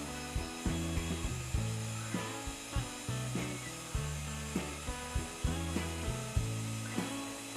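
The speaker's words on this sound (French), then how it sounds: "pour ce qui est de la scie, ça découpe comme dans du beurre" Rhythmic wooden sawing, strokes repeating roughly every half second with a steady back-and-forth scrape, close and moderately loud, no voices.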